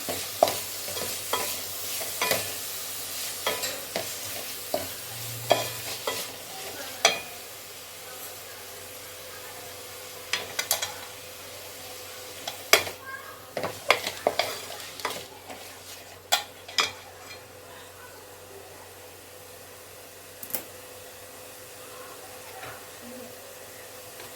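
Grated gooseberries are stirred into rice in a pan over a low flame, with scattered scraping clatters of the spoon above a gentle, continuous sizzle.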